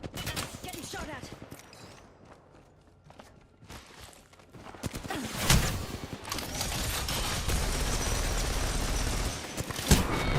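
Video game firefight with bursts of gunfire and sharp impacts, building from sparse shots into dense, loud, continuous shooting in the second half, with an especially sharp crack near the end.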